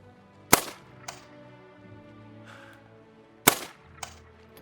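Two sharp, loud rifle shots from a hunting rifle in theHunter: Call of the Wild, each cracking out and trailing into a brief echoing tail, spaced about three seconds apart with quiet ambience between.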